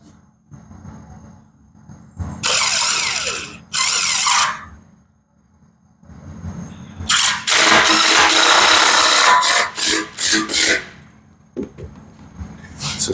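Power drill driving screws into wood for a camper build without pre-drilling, loud whirring bursts of a few seconds each separated by pauses, close by, with no talking.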